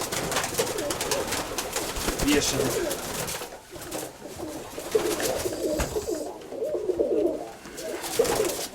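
Pigeons coo softly and repeatedly nearby in a low, rolling rhythm, mixed with someone talking.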